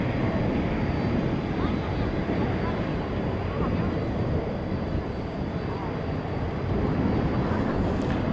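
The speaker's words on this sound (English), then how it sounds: "Let's look to the northern sky, where we see a Sky West CRJ coming in." A SkyWest CRJ regional jet approaches to land at DFW Airport at night, a broad, steady engine roar that stays loud and fairly constant throughout, with a faint high whine above it.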